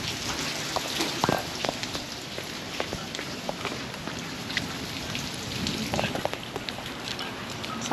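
Rain falls steadily in coastal Georgia, a dense close hiss with scattered sharper drop taps on a surface, continuous and unbroken throughout.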